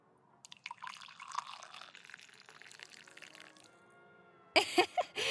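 Coffee poured as a refill into a cup at an all-night diner, a short liquid pour with a few drips, heard alone at moderate level and followed by a brief louder clatter near the end.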